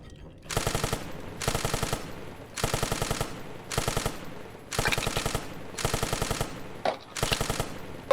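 In the military video game Arma, a machine gun fires in seven separate rapid bursts, each about half a second long, evenly spaced with short pauses between them and moderately loud.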